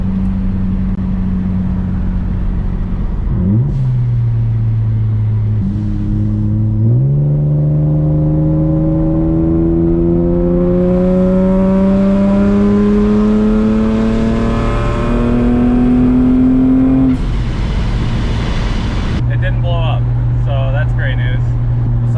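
A turbocharged Acura TL-S winds up from low to high revs in a wide-open-throttle pull in third gear. The engine tone climbs steadily and grows louder over about ten seconds, then backs off as the boost releases, and no voice is heard over it.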